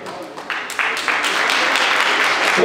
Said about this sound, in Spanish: Aplausos para este campeón